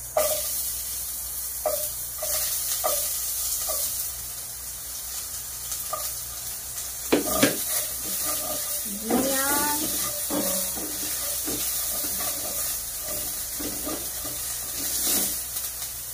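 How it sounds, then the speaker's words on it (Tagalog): Chopped onion sautéing in a hot pan in a home kitchen, a steady broadband sizzle running throughout, with a few clatters of utensils and brief bursts of speech breaking in over the hiss. "igigisa ko lang tong sibuyas"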